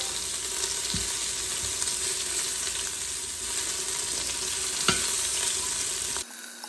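Flour-dusted, salted beef pieces sear in a pan for slow cooker stew, a steady close sizzle with an occasional clink of a utensil, then a sudden quieting near the end.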